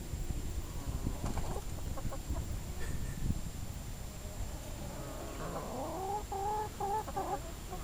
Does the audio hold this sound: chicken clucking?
yes